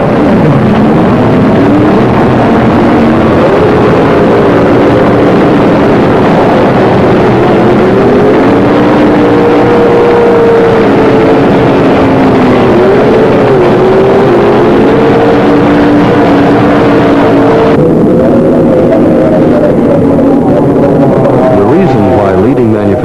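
Outboard-powered racing boats roar loudly and steadily at the start of a race, their engine drone holding a continuous rising and wavering whine throughout with no pause.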